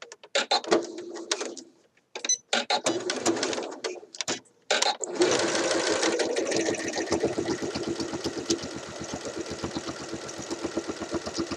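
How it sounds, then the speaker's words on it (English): A sewing machine top stitches a Simplicity 8014 shirt dress. It opens in a few short stop-start bursts, then settles into a long, steady, rapid needle chatter close up. "Now I'm going to do my top stitching."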